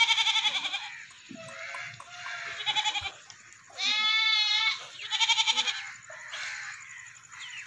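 Goats bleating at a goat sale in Burewala, several loud, close wavering bleats in bursts, one after another with short gaps, no talk over them.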